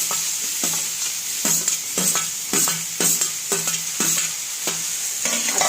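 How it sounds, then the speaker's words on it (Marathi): Okra being stir-fried in a pan for a home-style bhindi sabzi, a steady sizzle with a regular scraping stir about every half second, close and fairly loud, no voices. "आता आपण सर्व शेवट भेंडी टाकून घेऊया."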